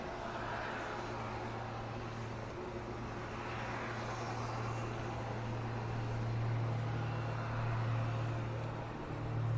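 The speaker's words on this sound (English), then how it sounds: "you can see the aircraft on final approach keeping their left wings a little low to battle the crosswind" A small Extra 330 aerobatic plane on final approach in a crosswind at an airshow arrival produces a steady, moderately distant engine drone with a low hum that slowly swells toward the end.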